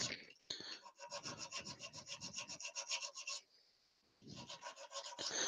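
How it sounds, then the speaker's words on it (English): Sandpaper rubbing on a small turned wooden figure, a steady rapid back-and-forth rasp in quick strokes, close and fairly loud, with a short pause before the scraping resumes. "And you can kind of shape that however you want now. Using the sandpaper."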